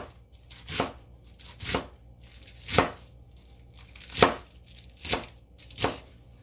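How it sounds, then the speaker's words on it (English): A knife chops down through leftover grilled chicken on a cutting board, six distinct thuds at uneven intervals, close and crisp with quiet pauses between cuts. "slice this here up"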